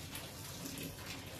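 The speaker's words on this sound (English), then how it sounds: "So all I'm going to do now is pour that away into the sink." Hot sugar wash is poured away into a sink as a steady, soft gush of liquid, faint and continuous throughout a brief moment, with no voices.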